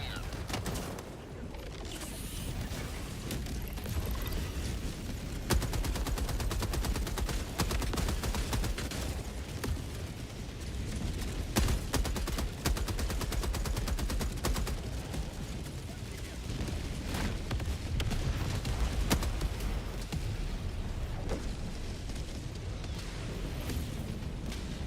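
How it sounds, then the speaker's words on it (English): Orbital barrage artillery in a video game rumbles through a dense, continuous stream of explosions and rapid impacts, with players talking over the chaotic bombardment. "Orbital barrage incoming. Stand clear."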